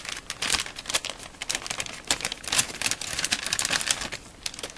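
Plastic and paper packaging of a Hauppauge WinTV HVR 2250 TV tuner card being opened up close, with rapid crinkling, crackling and tearing that comes in irregular bursts.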